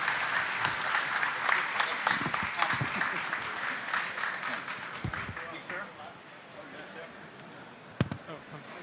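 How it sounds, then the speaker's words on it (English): Panel audience members clap together in a lively burst that gradually thins and fades over several seconds, with voices briefly audible beneath and a sharp thump near the end. "And a big round of applause for our panelists today."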